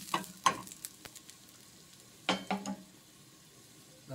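Garlic frying in oil in a pot for traditional pozole, with a low, quiet sizzle broken by two close clusters of sharp utensil clatter from stirring.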